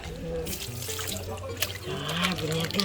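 Dog shampoo being mixed into a little water gives a soft, steady trickling and sloshing close by, running the whole time beneath people talking.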